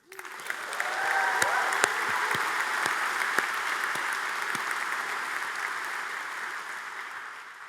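Sustained applause from a sizable audience, rising quickly and holding steady for several seconds with a few sharp claps and cheers standing out.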